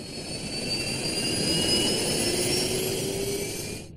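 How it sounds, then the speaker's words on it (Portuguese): Boeing 737 jet engines run with a smooth turbine whine, thin high tones slowly rising in pitch above a broad rushing roar that swells in the middle and then fades near the end, with no voices. "Os motores a jato contêm turbinas que produzem diferentes sons, dependendo da velocidade que estão girando."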